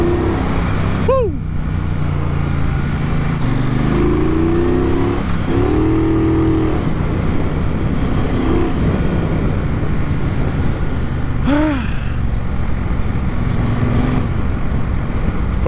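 A 2019 Triumph Bonneville Bobber 1200 motorcycle rumbling loudly and steadily while being ridden, with strong wind buffeting and the engine note rising and falling through shifts, plus a brief shout partway through.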